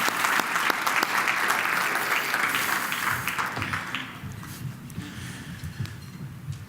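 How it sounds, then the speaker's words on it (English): An audience at a Los Angeles health care conference applauds warmly, dense clapping that fades over several seconds as people settle and murmur. "Let's give them a round of applause."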